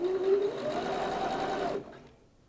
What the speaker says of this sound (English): take those to your machine and sew your 1/4 inch seam